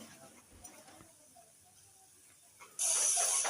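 Potato balls drop into hot oil and set off a loud, steady sizzle that starts abruptly after a quiet few seconds of faint kitchen sounds.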